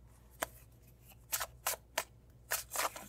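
Tarot cards pulled one by one from a deck: a few crisp papery flicks and snaps, the first one alone and then several close together, quiet and close with no talking.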